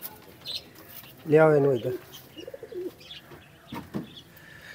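Pigeons coo inside a cage, one loud rolling coo near the middle with softer calls around it, while people talk nearby.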